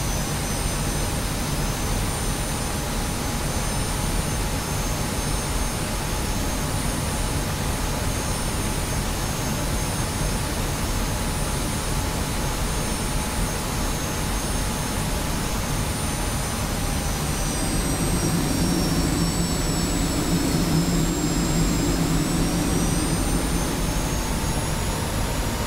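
A Tornado jet's engines roar in the DCS flight simulator, a loud, unbroken whining rush with a high turbine tone that dips slightly in pitch, swelling with a deeper rumble toward the end.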